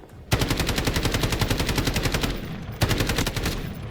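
Rapid automatic gunfire in the Delta Force shooter, two close, loud bursts of evenly spaced shots separated by a brief pause.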